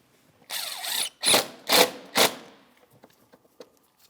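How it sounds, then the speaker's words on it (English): A 10mm clamp being tightened on the air inlet tube of a 2003-2008 Toyota Matrix 1.8L engine air box, giving four close ratcheting or scraping strokes, one after another. "tighten your 10mm headed clamp"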